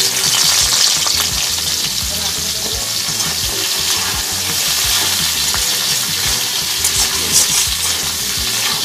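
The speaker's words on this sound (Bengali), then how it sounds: "এবার আমি পটলগুলো ভেজে নেব।" Pointed gourd (potol) frying in hot oil, a loud, continuous sizzle with irregular stirring scrapes and clinks of a utensil against the pan throughout.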